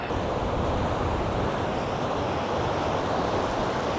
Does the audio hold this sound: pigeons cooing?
no